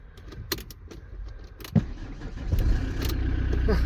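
Campervan engine being started: keys jangle and clicks, then the starter catches and the engine settles into a steady, close idle rumble for the last second or so.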